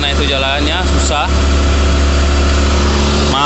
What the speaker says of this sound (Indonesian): Maaf berisik suara mesin karena kita berada di depan kabin